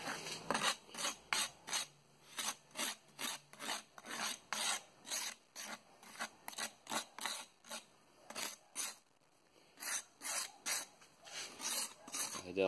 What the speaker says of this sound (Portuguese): É só vir com uma lixa grossa e dar uma acertada aqui na borda.